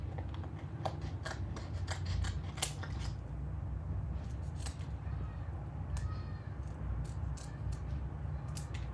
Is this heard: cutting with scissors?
yes